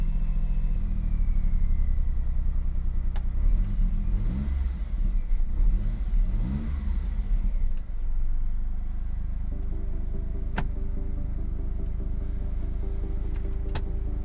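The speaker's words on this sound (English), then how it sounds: "Sounds like that starter motor's on its way out" A Smart Fortwo with a failing starter motor cranks and turns over, then settles into a loud, low rumbling idle up close, with a few sharp clicks and tones toward the end.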